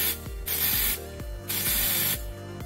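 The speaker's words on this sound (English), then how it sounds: "I'm just going to go ahead and spray it" Onyx nail drying spray sprayed from about six to eight inches away, three loud hissing bursts separated by short pauses, each with a faint mechanical click from the nozzle.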